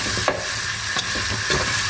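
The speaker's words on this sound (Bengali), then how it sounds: "চিংড়ি মাছটাকে হালকা করে ভেজে নিব" Shrimp fries lightly in a pan with turmeric and chili powder, a close, steady sizzle broken by a few sharp stirring scrapes, with no talking.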